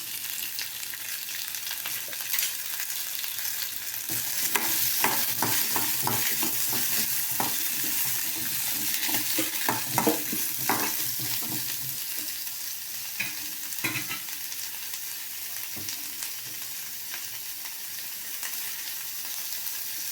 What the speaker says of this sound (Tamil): வானல் சூடாகிடுச்சு கொஞ்சம் எண்ணெய் விட்டுக்கலாம் அதில் இதில் வெங்காயம் தக்காளி போட்டு வணக்கி எடுத்து வச்சுக்கலாம்